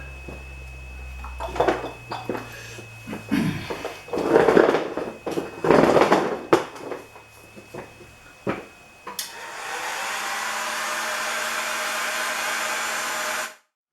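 A heat gun blows a steady roar while shrinking heat-shrink tubing over wiring for LED work lights on a Kubota BX tractor, starting after a series of clunks and handling noises and running loudly until it cuts off.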